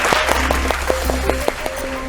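A family game show audience clapping, a short run of fairly loud, evenly spaced claps that holds steady before trailing off.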